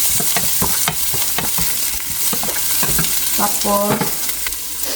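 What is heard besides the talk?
frying onion and garlic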